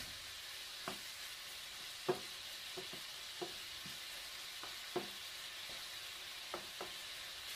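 Chicken with rice frying in oil in a pan gives a faint, steady sizzle, broken by scattered soft pops and scrapes.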